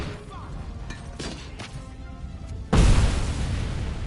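A grenade goes off in RoboCop: Rogue City, a sudden loud burst of noise after a stretch of quieter combat ambience, with a sustained rumbling wash trailing off.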